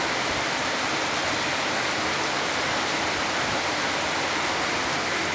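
Heavy rain with large drops pours down in a constant, loud wash of noise, steady and close with no pauses and nobody speaking.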